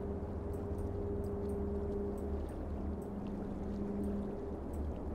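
Water floods over the banks of a creek in the Cities: Skylines map editor, a steady, loud rushing and pouring wash with a faint engine-like hum beneath and no talking.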